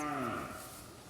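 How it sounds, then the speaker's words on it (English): Cows mooing on a farm among pigs and cats, a close, loud drawn-out low moo with harmonic tones lasting about a second. "Surrounded by cows."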